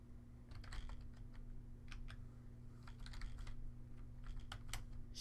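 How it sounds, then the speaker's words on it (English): Keystrokes on a computer keyboard come in quick irregular bursts, typing a short lab-report result, close up over a steady low electrical hum with no talking. "and we're going to type in"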